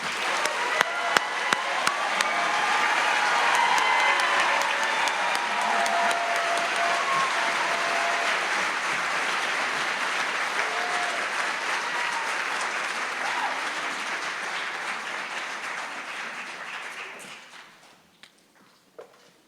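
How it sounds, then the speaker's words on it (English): Graduating students at a College of Fine Arts fall convocation receive a big round of applause, sustained dense clapping from a large audience that holds steady for many seconds, then fades out near the end. "if we could give our students a big round of applause"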